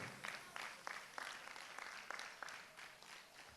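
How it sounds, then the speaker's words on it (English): Faint audience applause at an evening showcase unveiling new artists, heard as a steady wash of scattered clapping with brief louder bursts, distant and without talk. "Applause for the rulers and the local people."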